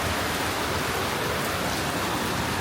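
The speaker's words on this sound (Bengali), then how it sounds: "বৃষ্টিটা একটু কম হইলে অনেক কাজ করা যায়" Steady heavy rain pours down during a stormy, windy day beside a house balcony, a dense continuous hiss with no pauses or voices throughout.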